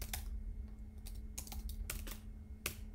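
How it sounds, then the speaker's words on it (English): Typing on a computer keyboard while entering node names in Blender Geometry Nodes: a quick, uneven run of close, crisp keystrokes with short pauses between bursts, no voices. "I'm using Shift A and then just typing"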